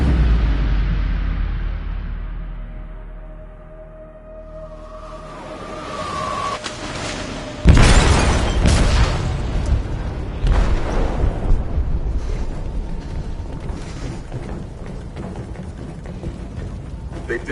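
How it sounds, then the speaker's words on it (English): An explosive detonates in a ship's hold in Detroit: Become Human: a sudden heavy boom after a quiet, rumbling buildup, followed by a long crackling, rumbling aftermath. "They detonated an explosive in the hold. The ship is sinking, sir."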